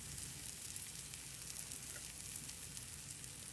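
A zucchini cheese burger patty fries steadily in a pan, a continuous soft sizzle with a dense hiss that holds level throughout, close and fairly quiet, with no voices.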